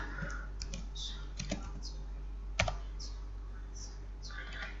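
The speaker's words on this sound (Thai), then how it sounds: "ต้องพิมพ์คำว่า backslash n ค่ะ" Fingers tap out code on a computer keyboard in the Dev-C++ editor, a steady run of light, close clicks with a couple of sharper key presses, all under a faint room hum.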